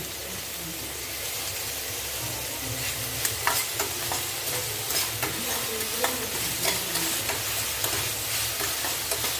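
Three medium tomatoes sizzle and fry in a pan for kadappa, a soft steady hiss with scattered sharp crackles and occasional stirring scrapes, fairly quiet and without talk.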